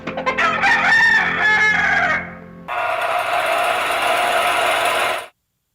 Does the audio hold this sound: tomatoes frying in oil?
no